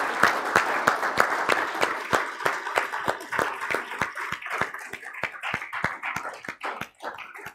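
A church congregation applauds in a steady, fast rhythm of many hands clapping together, loud and close, filling the space with no talk over it.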